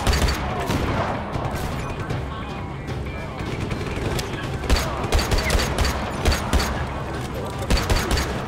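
Rapid bursts of gunfire in Just Cause 3, dense volleys and sharp cracks repeating throughout, loud and busy with game action and voices underneath.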